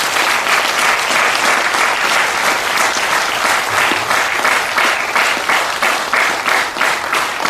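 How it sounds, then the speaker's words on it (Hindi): Sustained applause from a spiritual gathering's audience, steady and dense across the whole stretch with a faint rhythmic pulse of clapping, loud and close with no talk over it. "उन सारे पिरामिड मास्टर्स को हम तालियां बजाएंगे।"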